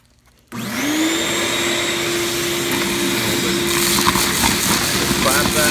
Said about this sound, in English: Now we're going to vacuum that hole out.